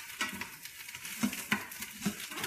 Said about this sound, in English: So it's sauteing right now.